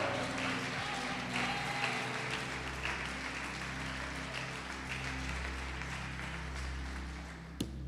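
A church congregation applauding during a sermon, a dense, steady wash of many hands clapping that fills the room for several seconds over a low rumble, with a few voices faint underneath.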